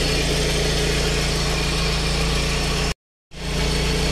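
A car engine idles steadily and loudly up close during radiator refilling with water, a constant low hum that cuts out abruptly for a moment before returning.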